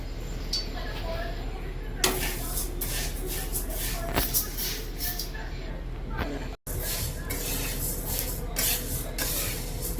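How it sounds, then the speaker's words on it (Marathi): Sorghum (jowar) grains dry-roasting in a pan, a steady close shuffle and rattle as the grains are stirred, with someone speaking over it throughout. "ही ज्वारी पण भाजून घेऊया।"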